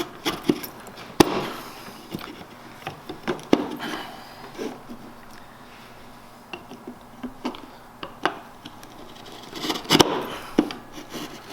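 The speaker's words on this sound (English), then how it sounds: "Clean it up with a wide chisel here." A wide chisel pares and cleans up a wooden block for a handmade Japanese kanna hand plane, giving scattered soft scraping rubs and sharp little taps at an irregular pace, close and fairly quiet, with no talking.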